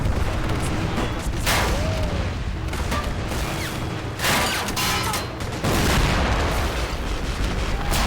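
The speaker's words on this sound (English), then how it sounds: "Heavy Russian machine guns opening fire now. Some Russian artillery going off there." In the Men of War: Assault Squad 2 battle, Russian artillery booms and machine-gun bursts crack repeatedly amid a continuous din of distant gunfire and explosions, loud and layered throughout.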